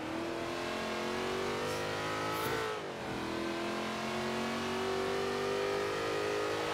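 A roughly 500-horsepower car in Forza Horizon 3 with a manual H-shifter and clutch. The engine hums and revs at high pitch, dips briefly as a gear changes, then climbs steadily again.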